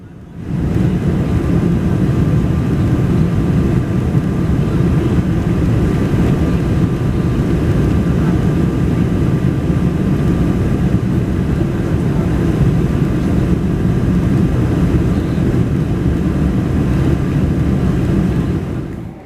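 A steady, loud cabin roar fills a Virgin Atlantic Boeing 747-400 in economy as it climbs through clouds on a Manchester to JFK flight, an unbroken broadband rumble with no voices.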